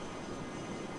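Steady broadband jet engine roar from a Learjet in Flight Simulator X, a faint continuous hum with no pauses or talking.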